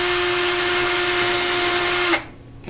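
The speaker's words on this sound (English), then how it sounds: "have the teacher re-drill this hole for you with a 3/16 bit" A power drill whines at high, steady speed as a 3/16 bit re-drills the wheel hole of a CO2 dragster, then cuts off abruptly near the end, leaving quiet.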